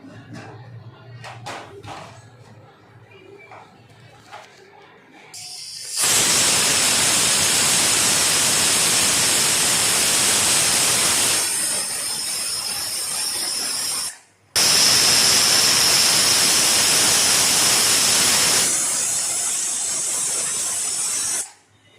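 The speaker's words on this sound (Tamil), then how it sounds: "ரெண்டு விசில் வந்துச்சு." A pressure cooker cooking mutton rogan josh lets out two long, loud, steady hissing steam whistles, the first lasting about eight seconds, the second following after a brief break, close by in a kitchen.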